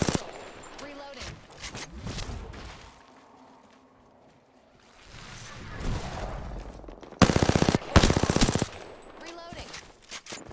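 Bursts of automatic gunfire from an enemy squad in Apex Legends crack out in loud, rapid volleys, with scattered shots, footsteps and brief in-game voice lines between the heavier fusillades.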